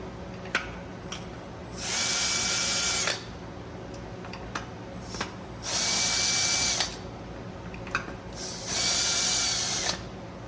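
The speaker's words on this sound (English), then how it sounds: "power tool here so I can go a little faster." A power tool loosening the muffler bolts on a Husqvarna T540 XP Mark III whirs in three loud bursts of about a second each, with quieter clicks and shop noise in the gaps between.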